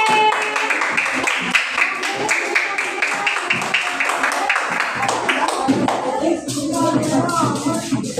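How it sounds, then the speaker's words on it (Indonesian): Pupils in a classroom applaud a group about to read aloud, a fairly loud, continuous patter of many hands that thins toward the end as voices begin. "Kasih tepuk tangan untuk kelompok B."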